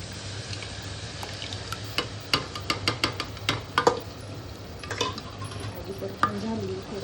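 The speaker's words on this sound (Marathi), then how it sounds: "भाजी परतून झाली." Vegetables for pav bhaji are stirred with spices in a pan, a low sizzle under sharp scraping and clacking of the spoon against the vessel, irregular knocks scattered through the frying.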